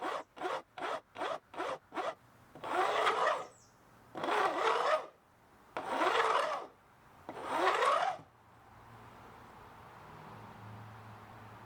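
A hand file bevels the ends of guitar frets on a neck, first six quick short strokes, then four longer, slower rasping passes, each separated by a pause, close and clear.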